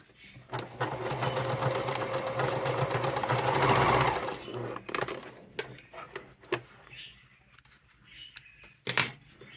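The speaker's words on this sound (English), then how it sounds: "I'm now going to sew over this several times back and forth." A sewing machine stitches back and forth over a D-ring on a wallet, running in a dense, fast buzzing burst for about four seconds, then a few short stitch runs and clicks, close up with occasional speech.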